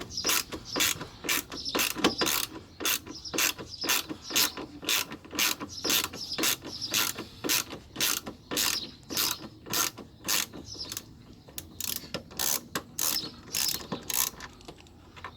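Rapid, even clicking of a ratchet working a tight screw loose on a Toyota Yaris Mk1 part, a long run of sharp ticks close up, alone with no talk.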